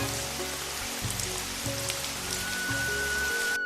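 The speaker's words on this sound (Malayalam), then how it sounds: "മഴ പെയ്യുന്നു." Steady rain patters on a surface, a constant wash of hiss with a low rumbling hum beneath it.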